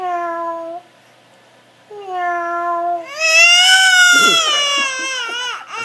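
A baby cries in rising, wavering wails with a pause between, and then a cat meows and yowls loudly alongside the crying. Both are close and prominent, with overlapping cries toward the end.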